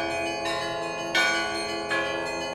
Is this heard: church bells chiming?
yes